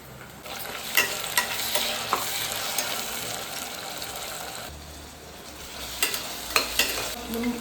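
Fenugreek leaves are tipped into mushroom biryani masala frying in a pan and stirred, giving a steady sizzle with repeated scraping clicks of the spoon, close and clear.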